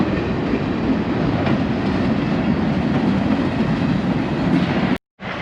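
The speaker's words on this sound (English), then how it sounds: "wait for that train to stop going by" A long train rolls steadily past on the railway close by, a loud continuous rumble and rattle of cars that holds for several seconds before cutting off abruptly, with no talking.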